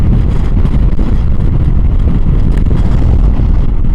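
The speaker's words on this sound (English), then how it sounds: "pretty windy out in general. I'm getting crosswinds when the walls go down from the edge." Loud, steady wind roars and buffets against the microphone while riding a motorbike in gusty crosswinds, a constant low rumble filling the whole stretch with no talking.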